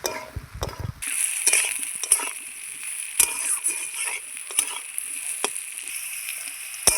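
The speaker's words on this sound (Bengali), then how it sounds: "শলা কচুর যে মুড়োটা, সেটা সুন্দর করে লাল লাল করে ভেজে নিয়েছি" Pieces of taro (sola kochu) fry in hot oil, giving a steady close sizzle broken by occasional clinks and stirring knocks against the pan.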